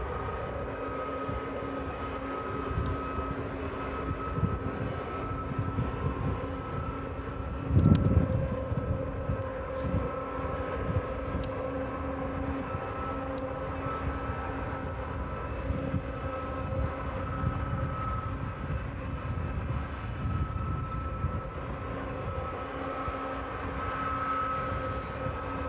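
An old DHL cargo airframe rumbles at East Midlands Airport, a steady broad engine roar holding for the whole stretch with a brief louder swell early on, fairly distant and unbroken.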